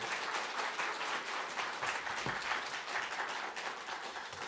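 A church congregation at a special New Year revival meeting claps to welcome the pastor, heard as a full, steady round of applause filling the room from start to finish.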